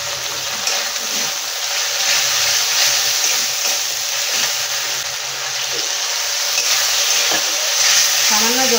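A wet spice paste of ground cumin, coriander, green chilli, black pepper and ginger with turmeric and a splash of water fries and sizzles steadily in a pan while being stirred, with occasional scraping, for a rohu fish curry.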